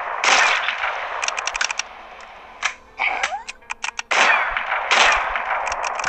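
Shotgun blasts in the zombie shooter Dead Zed, fired in loud bursts of several quick shots, then a short pause and another broad blast, with a single rapid string of sharp reports in between.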